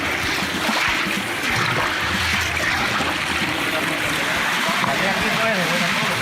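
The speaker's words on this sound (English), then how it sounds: "now we're letting the coffee out from the tank with some water into the washing channel" Water washes fermented coffee parchment out of a tank into a washing channel, giving a steady rushing, trickling wash that runs throughout at moderate volume.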